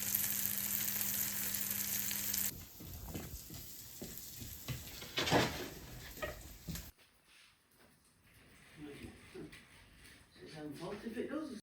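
Steak sizzles and crackles in a frying pan, steady and close for a few seconds before cutting to quieter kitchen sounds, with a voice talking over parts of it.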